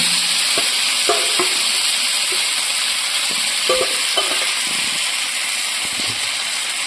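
Paneer sizzles in hot oil in a kadai with a steady frying hiss, broken by several light knocks and scrapes of a spatula as pieces get turned over.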